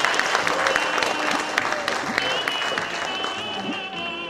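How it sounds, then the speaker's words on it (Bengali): A reunion crowd claps loudly for the organizers, a sustained burst of dense applause with some voices mixed in that gradually tapers off. "তাদের জন্য একটা জোরে করতালি আশা করবো"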